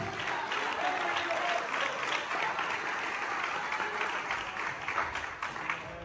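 Steady applause from a church congregation, a continuous, moderately distant wash of many clapping hands lasting several seconds with no talk over it.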